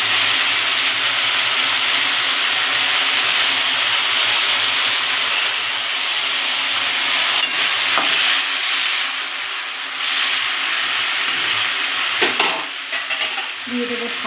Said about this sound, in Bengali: নুন, হলুদ আর অল্প একটু চিনি দিয়ে ভেজে নেব।